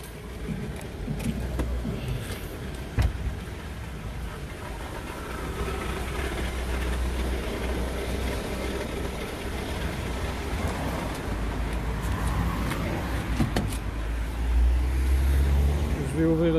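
A Renault Clio 3 with the 1.5 dCi diesel engine accelerating, heard as a steady low engine rumble that swells slightly toward the end and carries faint road noise underneath.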